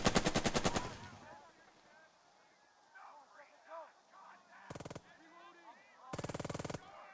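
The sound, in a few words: gunfire from the video game Burden of Command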